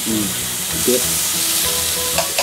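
Beef honeycomb tripe sizzles steadily on a yakiniku grill, a continuous crackling fry heard close up with a few brief louder pops and no talking.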